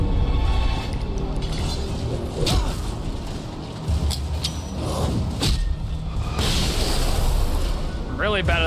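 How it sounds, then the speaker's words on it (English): A flashbang detonates in the video game Alan Wake amid a dark, noisy game soundscape, with booming bursts and a bright crackling flare standing out over constant rumbling background effects. "just dispelling the darkness with one flashbang at a time"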